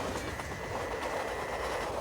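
A 75-car, 6,000-ton freight train over a mile long runs at night at 52 miles per hour toward Little Rock, Arkansas, a steady close rumble with rail clatter and a thin wheel whine, no talk.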